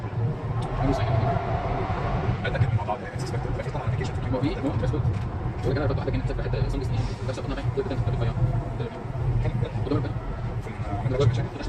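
A Vancouver SkyTrain heading to YVR-Airport rumbles along the track with a steady low drone and wheel noise, heard from the front of the car, with some voices faintly in the background.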